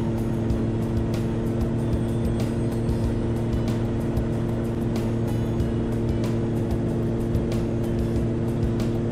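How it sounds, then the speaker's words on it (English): Gyroplane engine idling steadily while taxiing for departure after refuelling at Fillmore, a continuous droning hum with strong low tones and faint clicks above, no talk. "I'm taxiing for departure."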